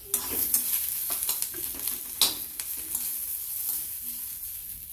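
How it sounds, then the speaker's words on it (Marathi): Chopped onion sautéed in a pan, stirred so a spoon scrapes and taps repeatedly over a soft, steady sizzle at close range. "त्यातच मी कांदा ऍड करते, छान परतून घ्यायचं।"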